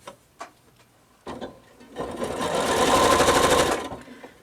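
Sewing machine stitching quilt block pieces together, a few light taps and clicks first, then a rapid close mechanical chatter building for about two seconds before stopping.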